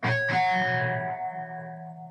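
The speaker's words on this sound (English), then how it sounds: "That high-pitched sound, that's what you're after." Bell-like, high-pitched natural harmonics on a djent-style electric guitar struck twice in quick succession, ringing out with effects and slowly fading.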